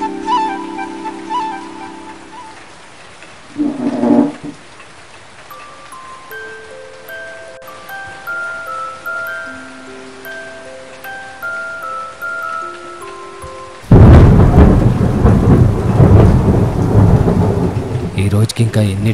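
Heavy rain and thunder: a rumble of thunder early on over quiet ambience and soft music, then a sudden loud, dense downpour hisses steadily through the final seconds.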